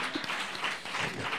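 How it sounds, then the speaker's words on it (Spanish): Audience applause on a Spanish comedy talk show, a brief burst of many hands clapping, fairly close and steady for about a second and a half, standing alone without talk. "Un aplauso a Juan, por favor."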